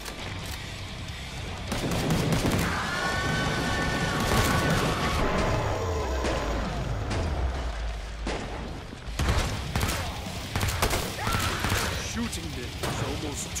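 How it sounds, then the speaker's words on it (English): Heavy gunfire and booms from shooting zeds in the horror shooter Killing Floor 2, sustained loud volleys with sharp individual shots later, under game voices talking. "Shooting them is almost too easy."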